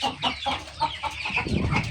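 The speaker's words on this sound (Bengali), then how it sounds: "দেখুন চীনা হাঁসগুলো বের হয়েছে, দেশি হাঁসের বাচ্চাগুলো বের হয়েছে" Chinese ducks and local ducklings call in quick, uneven bursts of short quacks and peeps, close and moderately loud, with scattered calls overlapping one another.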